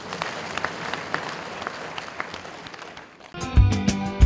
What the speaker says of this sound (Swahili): Naomba tuipigie makofi